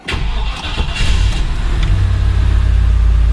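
A 1999 Land Rover Discovery engine cranks briefly, then catches and settles into a steady, loud, low idle rumble.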